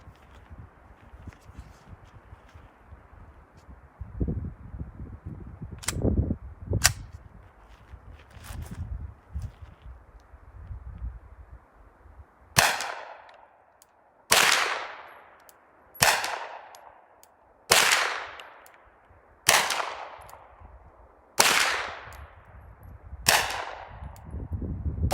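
Suppressed rifle shots from a Ruger GSR .308 fitted with a PWS suppressor, seven sharp cracks spaced about two seconds apart, each with a short decaying tail, following a stretch of quieter handling clatter.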